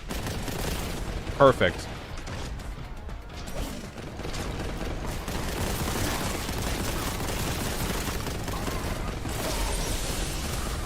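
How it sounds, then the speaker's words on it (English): Heavy bolter fire in Warhammer 40,000: Boltgun, a steady mechanical barrage of rapid shots and thumps sustained across the clip, loud and dense, with someone speaking briefly over it. "When you're firing the heavy bolter, you literally can't even see what the fuck you're shooting at."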